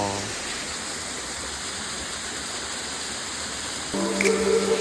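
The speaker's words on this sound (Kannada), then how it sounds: "ಇದ್ರಲ್ಲ ಗುರು ಉಳಿಕಲ್ ಫಾಲ್ಸು." Hulikal waterfall in Karnataka gives an even, continuous rushing roar from start to finish, with a faint tonal sound joining in the last second.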